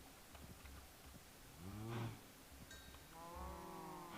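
Cows in Minecraft's Stoneblock 2 modpack give two drawn-out, low moos a second or so apart, clear and fairly close over a quiet background with faint clicks, and no voices.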